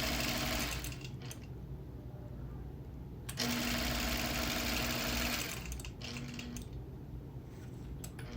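A sewing machine quilts around hand-pieced 5/8-inch hexagon appliqué, its needle whirring in steady bursts that stop and restart, with brief pauses between runs, close and moderately quiet.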